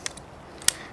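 A ratcheting clamp squeezed onto a homemade horse height measuring stick gives a few quick, close mechanical clicks, with one sharp ratchet snap near the end.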